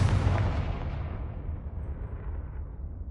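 A Confringo fire spell in Hogwarts Legacy bursting as one loud, deep explosion that rumbles and fades away over a few seconds.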